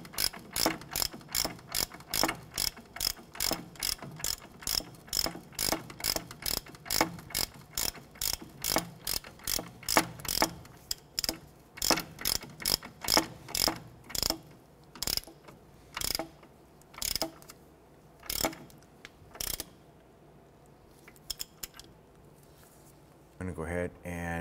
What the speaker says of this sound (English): switching over to our 22 millimeter socket and ratchet, go ahead and speed up the tightening process here